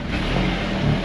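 A car engine growls through its muffler during a rough mountain off-road drive, a short, steady mid-pitched rumble that swells slightly at the end.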